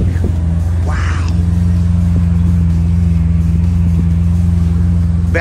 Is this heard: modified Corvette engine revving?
yes